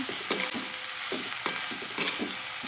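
Sour greens (khati bhaji) frying in a pan are stirred in a few quick scraping strokes over a soft continuous sizzle, close and clear, with no talking.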